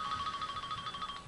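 A mobile phone rings with a repeating electronic ringtone, steady and fairly clear over the length of the clip, with no voices.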